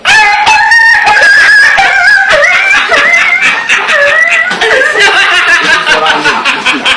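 A person mimics a dog yelping after being splashed with hot water, a loud run of high, wavering yelps and whines with choppy laugh-like bursts, close and alone.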